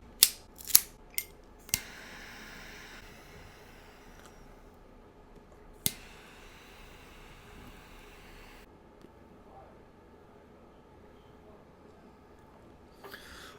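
A Cohiba Royale cigar is clipped with a cutter in a few sharp, close snips early on, then one more snip after a pause, with quiet room hiss and no talking.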